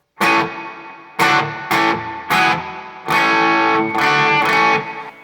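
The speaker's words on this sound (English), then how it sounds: "Let's check out the reverb. I have it on a spring sound right now." Several distorted electric guitar chords ring out in separate bursts, each trailing into a splashy, metallic spring reverb tail.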